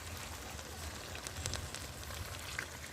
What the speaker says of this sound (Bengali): চিকেনগুলো আমি দিয়ে দিলাম।